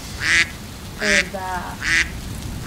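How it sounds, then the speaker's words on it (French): Three bursts of duck quacking, each loud and nasal, spaced about a second apart over a steady low background; a voice briefly murmurs between the calls. "Et quel type de canard est-ce?"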